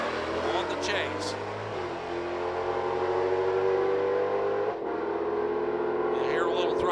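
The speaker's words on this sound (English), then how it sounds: "You hear a little throttle work down there at the top end of the track" Drag race car engine at the top end of the track, a sustained throttle roar with shifting revs, mixed with crowd noise and an announcer's commentary over it.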